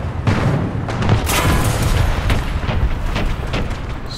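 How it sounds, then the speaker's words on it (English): Loud, sustained battlefield din from tank combat in War Thunder, with repeated heavy cannon booms and rumbling impacts packed closely together over continuous engine and environment noise. "Someone's shooting me."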